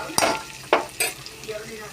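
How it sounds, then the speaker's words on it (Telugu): A spoon stirs snake gourd curry in a pan on high flame. Two or three quick scraping strokes come over a soft, steady sizzle, close and fairly quiet, with no speech. "హై ఫ్లేమ్లో ఉంచుకుంటా మధ్యలో కలుపుకుంటా ఉండాలి."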